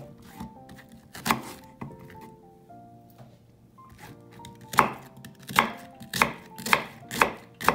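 A knife chops an onion into small cubes on a cutting board, with a few scattered cuts first, then a steady run of crisp, evenly spaced strikes, close and distinct.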